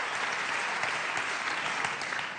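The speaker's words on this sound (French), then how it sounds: "on peut vous applaudir de nouveau" Audience applause at a national awards ceremony honouring young talent, a dense, steady clapping from a crowd that fills the whole short stretch at even volume with no voices over it.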